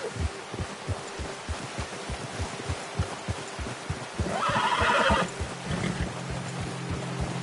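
A horse whinnies once in the middle in Red Dead Redemption 2, a bright neighing burst over steady rhythmic hoofbeat-like thumps, followed by a low sustained tone.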